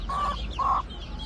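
Two short, clear calls from a broody Gurk hen sound close by and fairly loud over a low steady hum, one after the other with a brief gap between.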